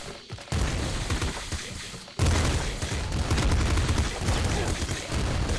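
A flame shotgun fires in Nuclear Throne, producing a steady, loud stream of crackling, burning blasts that swell after a brief dip and continue almost unbroken.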